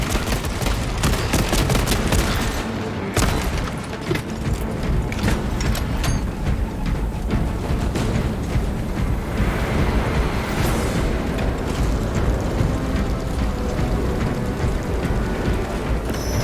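Heavy, dense gunfire and explosions from Warhammer 40,000: Space Marine 2 roar continuously for the full stretch, with rapid bursts layered over booming impacts and a brief dip near the start.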